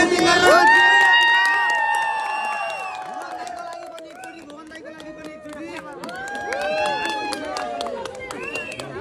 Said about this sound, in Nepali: ओके एकचोटी अनमोल जीको लागि ताली बजाइदिनु त।